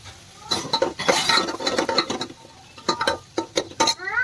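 Salt and crushed peanuts are mixed into food in a pot, a spoon scraping and clinking against the sides in quick irregular bursts with brief pauses between strokes.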